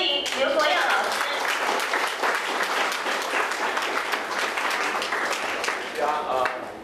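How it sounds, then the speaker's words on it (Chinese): A crowd applauds to welcome tenor Liu Guoyao before he sings, with dense, steady clapping lasting throughout and swelling again near the end. "请各位以热烈的掌声欢迎刘国耀老师"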